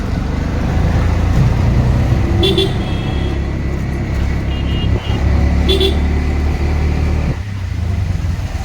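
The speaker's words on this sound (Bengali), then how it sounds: "সোনারপুর অটো স্ট্যান্ডে এসে গেছি আমরা, এবার নামবো।" Steady, loud road traffic rumbles at an auto-rickshaw stand in Sonarpur, with engines idling and passing close by and two short horn toots standing out over the din.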